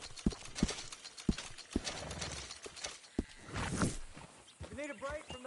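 Horse hooves clip-clopping in Red Dead Redemption 2, sharp, evenly spaced hoof strikes close up, then a horse's whinny and someone talking over the end.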